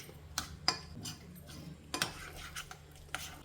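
A spoon stirs masala paste with lemon juice in a bowl, making sparse, quiet clinks and soft scrapes in an irregular rhythm, close by and without talk.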